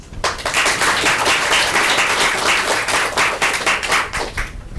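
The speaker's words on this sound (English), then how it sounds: "let's give a warm applause to Professor Markowich" Lecture audience gives sustained, dense applause for a professor at a talk on biological transportation network modeling, steady and fairly loud for nearly five seconds before tapering off.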